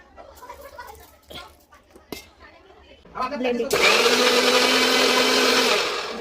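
Blender whirs loudly and steadily for the last few seconds while making a strawberry smoothie with cold milk, starting abruptly after quieter kitchen handling noises and brief talk.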